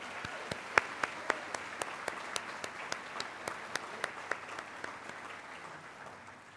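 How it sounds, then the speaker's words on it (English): A school event audience applauds a jazz band with scattered, distinct claps over a steady bed of clapping, gradually thinning and fading toward the end. "Can we please give Bartow Jazz Band another round of applause?"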